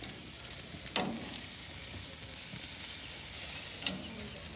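A sous vide rib eye steak sizzles on a hot grill, a steady, close hiss of searing fat with a few sharp pops and crackles, no talking over it.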